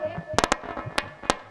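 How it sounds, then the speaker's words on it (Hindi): Several sharp firecracker bangs burst out at an outdoor devotional song-duel performance, two close together early, then two more spaced apart, loud over a low background of music and crowd murmur. "ये पटाखे काहे छूट रहे भैया"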